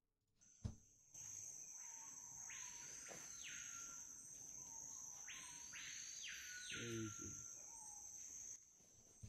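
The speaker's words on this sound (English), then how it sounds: "That's a bird." In a Brazilian jungle, a bird gives two loud, harsh bursts of alarm calls over a constant high drone of insects. A faint knock comes near the start.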